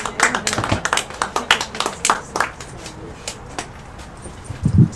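Scattered clapping from a small audience at a songwriters' showcase, a handful of distinct claps that thin out and fade to near silence, followed by a brief soft rustle at the end.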